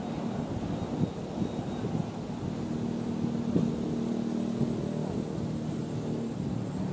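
Steady, heavy wind roars and buffets the microphone throughout, a continuous low rumble with no pauses, outdoors at a model airplane flying session.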